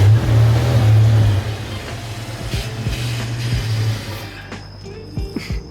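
Ford Foxbody Mustang with a manual gearbox revs loudly up close at first, then settles to a lower idle with a few sharp knocks and clunks toward the end.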